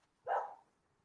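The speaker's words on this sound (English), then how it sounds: "I'm sorry, you all, that is my dog." A single short dog bark sounds from a home during an online lesson, faint and brief against near silence.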